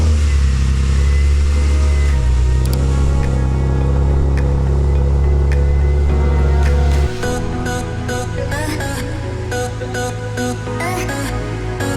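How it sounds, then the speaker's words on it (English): A Nissan 370Z idles and creeps into a garage, its engine a loud, close rumble that shifts in pitch partway through, joined by clanking and rattling toward the end. "I'm going to stop talking and try and get this car into the garage"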